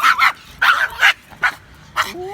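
A small Pomeranian barks in quick, sharp yaps, five close bursts in rapid succession ending with a short whine.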